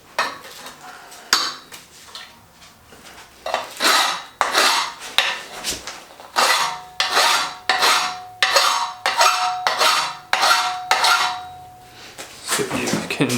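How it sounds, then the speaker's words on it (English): A half round file rasps across an aluminum workpiece for a bicycle frame build, about a dozen steady back-and-forth strokes, close and fairly loud, with short pauses between them. "So I'm just going to be using a half round file."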